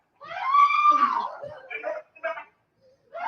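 During a shooting, a woman screams loudly and close in one long, wailing cry, followed by shorter broken cries and sobs with pauses between.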